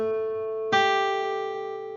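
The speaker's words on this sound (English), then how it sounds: "And a minor seventh." A guitar plays a minor seventh: one note already sustains, then a second note is plucked partway through and the two ring together cleanly, fading gradually with slight pulsing.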